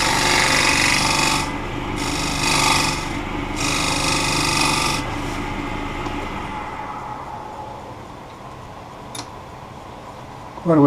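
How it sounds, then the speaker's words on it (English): Ordinary scraper cutting wood on a lathe while shaping a one-piece coffee scoop, a close, loud rasping cut in several bursts that fades to a quieter spinning hum. "It makes a nice smooth cut. Just use an ordinary scraper."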